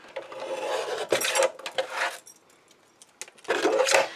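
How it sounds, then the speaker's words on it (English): Acetate sheet for a tea cup and saucer display gift box being trimmed down, giving bursts of rasping, scraping cuts with short pauses between strokes, close and fairly loud. "Let me just trim that because it only needs to be 1/2 inch."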